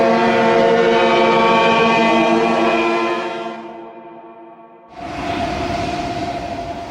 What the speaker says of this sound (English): with every ship's siren at full blast.